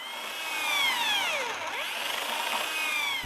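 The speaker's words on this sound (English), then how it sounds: "How do I drill to the right depth?" A power drill whines as it bores into a wooden door while hanging it, its pitch sweeping down and back up, steady and close with no talking.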